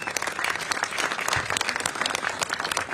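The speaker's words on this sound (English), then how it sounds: "Big round of applause for her." A rally crowd in San Francisco applauds district attorney Brooke Jenkins, steady dense clapping from many hands, fairly loud and continuous for a few seconds with a faint voice underneath.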